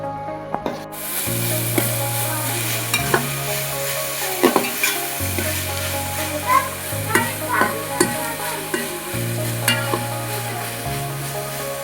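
Onions with fenugreek sauté in coconut oil in a pan. A loud, steady sizzle goes on throughout, broken by repeated scraping stirs and clinks of a spatula, with no talking.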